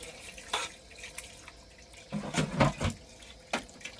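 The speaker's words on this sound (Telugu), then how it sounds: "చికెన్ అయితే కడుగుతున్నాం ఫ్రెండ్స్." Chicken being washed with water beside a truck, tap water splashing and dripping in irregular bursts, fairly faint and close, with no talk in the moment.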